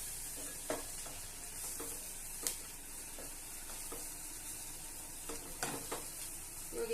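Village-style masala for chicken sambar sizzles softly in a hot pan, with a faint steady fry and occasional sharp clinks and scrapes of stirring.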